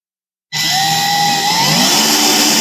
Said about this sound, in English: if you heard that clicking sound, on a drill